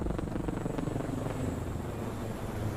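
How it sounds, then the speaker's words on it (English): A helicopter's rotor thumps in a steady rapid chop, loud and continuous, with a dense engine drone beneath. "I like the helicopter sound."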